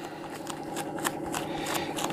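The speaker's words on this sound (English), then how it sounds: "squish it and then fold it over again squish it and put it back in" A sheet of HDPE plastic is folded and squished by hand, giving soft crinkling, rustling crackles in quick irregular bursts, close by, with no voices.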